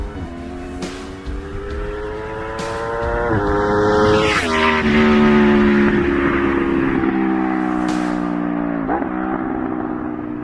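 A 2014 Aprilia Tuono V4 motorcycle's exhaust, a loud close engine note that climbs through several gear changes with rising and falling revs and a short whine, no speech.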